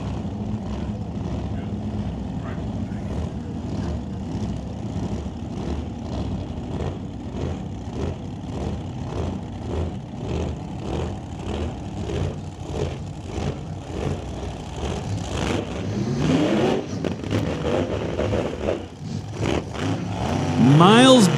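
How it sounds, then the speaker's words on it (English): A vintage nitro dragster with a supercharger blower runs after being fired up at an old-time drag racing event at Mission Raceway Park, holding a loud, steady throbbing idle that grows rougher and more intense toward the end. "And now the Dragster's fired up."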